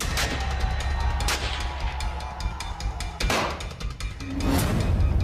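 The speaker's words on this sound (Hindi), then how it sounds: "कहीं गोलियों की गूंज," Several sharp gunshots crack out irregularly on the streets of Karachi, Pakistan, against a rumbling background, some louder bursts standing out among fainter pops.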